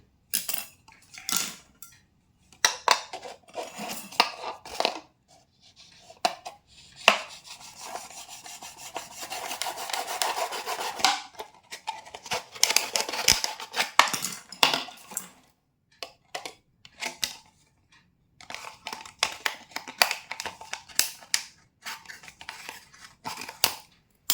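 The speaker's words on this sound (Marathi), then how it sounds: "अशी बाटली कटिंग करून घ्यायची नंतर बघा इथून पण कटिंग करून घ्यायची" A plastic chocolate jar is cut apart to make a crab trap, giving intermittent scraping, snipping and rubbing bursts with short pauses, close and fairly quiet.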